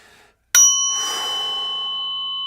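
A single bright bell struck once during a guided meditation, a sharp ding followed by a long sustained ringing tone that fades slowly, alone and clear.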